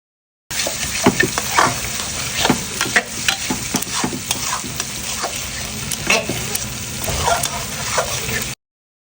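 Spice paste with chilli fries for a catfish curry, giving a steady, close, loud sizzle broken by scraping stirring strokes throughout, with no talking.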